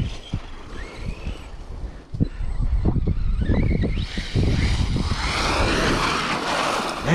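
An Arrma Mojave 4S RC truck running on 5S power with Method tires drives through snow, its electric motor whining and revving in uneven bursts under steady wind noise outdoors.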